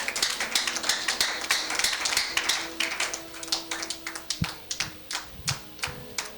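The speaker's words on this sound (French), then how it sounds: "Let us clap for the Lord." Congregation clapping for the Lord during a Holy Communion church service, a steady run of sharp, rhythmic handclaps filling the room with little or no talk over them.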